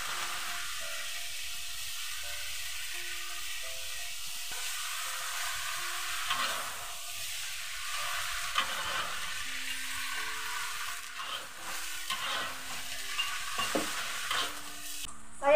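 Water spinach (kangkung) being stir-fried in a pan with crisp fried garlic and onions, a steady sizzle and stirring clatter running throughout at moderate loudness, with no talk.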